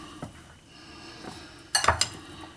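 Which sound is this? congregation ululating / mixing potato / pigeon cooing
mixing potato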